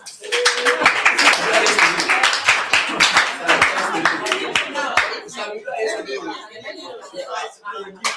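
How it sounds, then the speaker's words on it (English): Audience clapping at a Wikipedia outreach gathering, loud and uneven with scattered sharp claps, mixed with chuckles and chatter that take over as the clapping thins toward the end. "Please, let's clap for him."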